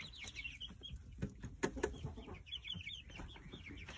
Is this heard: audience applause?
no